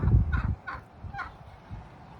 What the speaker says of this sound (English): some of our neighbors' turkeys showed up in our yard